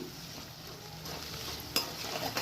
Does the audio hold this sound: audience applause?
no